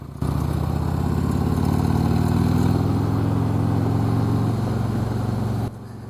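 A Harley-Davidson Road Glide with upgraded suspension rumbles along a road, its engine holding a steady, loud low drone with a slight rise in pitch early on before cutting off near the end.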